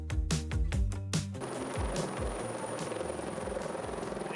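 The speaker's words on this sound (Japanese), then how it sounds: "ヘリコプターがフィリピントヨタに降り立ちました。" Rapid thudding rotor blades beat loudly at first, then give way to a dense roaring wash of noise and whine as the helicopter settles nearby at Toyota Motor Philippines.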